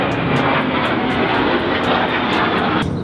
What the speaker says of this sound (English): there's about to be a plane